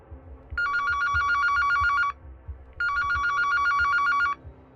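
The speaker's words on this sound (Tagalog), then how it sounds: "nang mag-ring ang aking cellphone" A cellphone rings with two bursts of bright electronic trilling, each lasting about a second and a half with a short gap between them. The ringing is loud and close over a low background murmur, with no speech.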